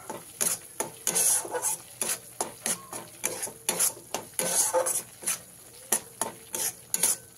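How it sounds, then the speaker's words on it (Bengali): Mustard and poppy seed paste fries in a pan over a medium gas flame for tilapia curry, with steady sizzling broken by repeated scraping stirs of a spatula against the pan, close and rhythmic, no voices. "গ্যাসের ফ্লেমটাকে মিডিয়ামে রেখে পেস্টটাকে আমি ভালো করে কষিয়ে নিয়েছি"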